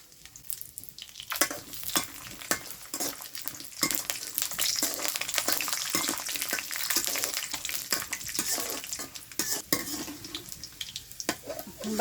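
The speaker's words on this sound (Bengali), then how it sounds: "বাদাম ভাজা হয়ে গেছে" Peanuts frying in hot oil in a kadai while making singara filling, a steady busy sizzle with frequent stirring scrapes and clicks throughout, close and fairly loud, no talking.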